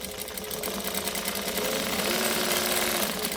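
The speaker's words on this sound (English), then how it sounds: "So we're going to stitch and back stitch" A sewing machine stitches fabric for a bag, a fast, steady mechanical chatter running close and loud throughout without a break.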